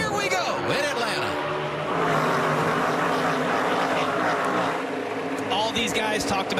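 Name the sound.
NASCAR race car engines at Atlanta race start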